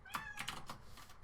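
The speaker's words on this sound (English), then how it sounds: "kitty cat?" A house cat gives a few quick, soft meows in a quiet room, close but faint, alongside light tapping like typing on a computer keyboard.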